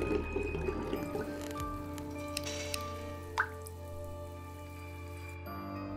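Water drips steadily while a can is filled at a toilet in the horror video game Bad Dream: Coma, close droplets and small splashes over a sustained eerie tonal drone, with no talk.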